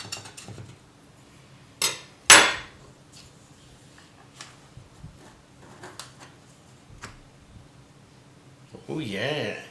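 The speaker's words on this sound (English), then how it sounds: "So just go around with a knife and make sure it's nice and loosened up." A knife is run around the inside of an Instant Pot pan to loosen a steamed cake, giving sharp metallic clinks and scrapes in a few separate bursts amid quiet kitchen handling and some talk.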